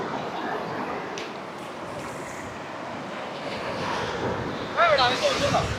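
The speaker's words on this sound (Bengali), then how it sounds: "ঢেউ আসতেছে" Sea waves roll and break on Teknaf beach at the southern tip of Bangladesh, a steady broad wash under gusty wind noise on the microphone, with brief voices near the end.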